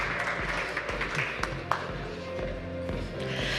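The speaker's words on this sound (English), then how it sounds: "Let's give them a round of applause" Audience clapping at a blockchain and crypto industry summit, steady applause for a presenting team heard over a low hum and background music, with a faint voice mixed in.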